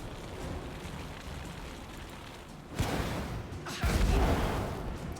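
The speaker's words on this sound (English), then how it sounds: "Fuck off with the pyrokinetic explosion" A pyrokinetic explosion spell from the Divinity Original Sin 2 game sounds over a steady roar: a sudden whooshing burst, then a second, heavier boom that rumbles low before fading.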